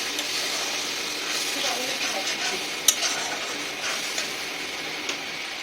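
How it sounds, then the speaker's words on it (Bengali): Ground coriander-cumin spice paste fries in a pan with a steady sizzle and hiss, stirred with soft scraping and a few sharp utensil clicks, close and moderately loud. "মশলাটাকে আমি একটু ভালো করে কষিয়ে নেবো"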